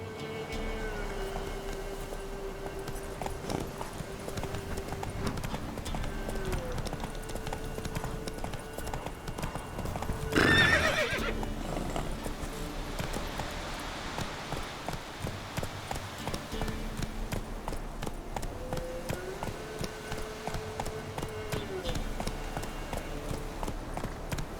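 Roach, a horse in The Witcher 3, trots with steady clip-clop hooves through a game scene with a low droning background. A brief louder burst rises about halfway through, and a clear neigh cannot be picked out.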